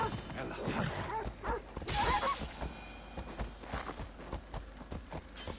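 Horse hooves clip-clop in an uneven rhythm in Assassin's Creed Odyssey, moderately close, with scattered thuds and a brief burst of other game noise partway through.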